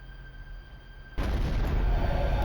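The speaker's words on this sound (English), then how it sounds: "the sound of an explosion sent him rushing to the window" A dramatized explosion at night bursts in suddenly after a quiet humming lull, then a loud, sustained rumbling roar fills the rest.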